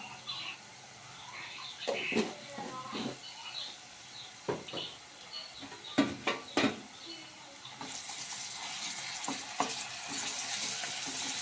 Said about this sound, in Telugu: ఈ పచ్చివాసన, అల్లం వెల్లుల్లిపాయ పచ్చివాసన పోయేంత వరకు వేపుకుందాము